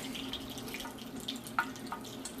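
Water dribbling into a hot water heater tank being cleaned out, a faint, close trickle with small irregular drips and splashes over a low steady hum.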